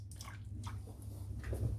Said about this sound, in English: just wash my other hand off in the water without wetting the cast